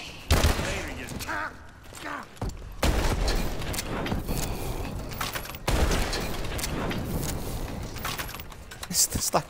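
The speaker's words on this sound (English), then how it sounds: "mini cannon." A mini cannon fires in Advanced Warfare Zombies, a video game, giving bursts of rapid gunfire and blasts that stop and start, with players talking over the shooting.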